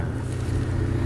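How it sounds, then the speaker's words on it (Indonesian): A 2004 Nissan Terrano SUV with a Z24 engine idles with a steady low rumble, close by and continuous, with no talk over it. "Ini posisi mesin nyala dari tadi."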